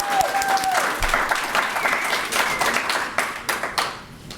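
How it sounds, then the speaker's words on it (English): Ceremony audience clapping for fellowship graduates at a graduation event, loud and close, with scattered whoops and a whistle near the start, the clapping thinning into separate claps at the end. "another round of applause"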